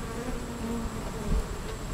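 Dense, steady buzzing of many honeybees close by at an open hive while frames are pulled out, a continuous droning hum with no voices.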